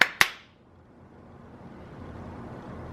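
Two sharp hand claps sound in quick succession, close and bright, followed by near-silence in a quiet indoor room.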